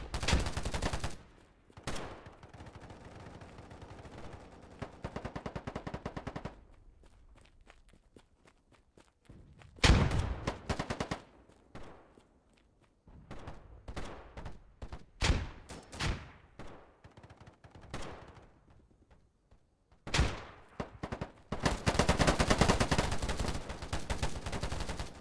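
Bursts of M16 rifle fire in the shooter game Polygon, loud clustered volleys separated by quieter stretches with footsteps and movement, some shots in rapid automatic runs and others as short single cracks.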